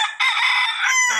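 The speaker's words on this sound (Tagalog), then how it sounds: "Pinakita ko lang sa inyo yung mga alaga natin dito, yung mga manok." A rooster crows loudly and close, one long sustained cock-a-doodle-doo lasting over a second, among backyard chickens raised by the keeper, with no talking.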